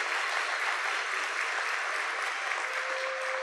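Sustained applause from a crowd at a graduation ceremony, a dense, even wash of clapping that holds steady throughout without letting up.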